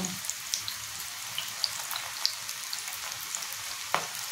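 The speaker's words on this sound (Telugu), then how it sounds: "స్టవ్ మీడియం ఫ్లేమ్ మీద పెట్టుకోవాలి. ఎందుకంటే బాగా లోపలికంతా వేగాలి కదా." Onion and cashew pakodi frying in hot oil over a medium flame, a quiet, steady sizzle with occasional small pops and crackles, no voices.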